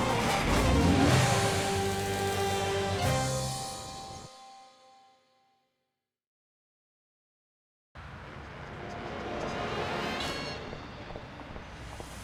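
Car in the Sam & Max Save the World video game driving off, a loud engine rev and roar that fades out, a few seconds of silence, then the engine noise returning steadily.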